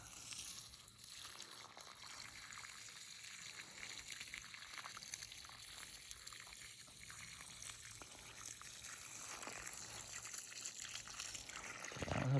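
Water runs steadily down a garden row in a Kentucky vegetable garden, held back by small dams, a faint continuous trickle and gush throughout.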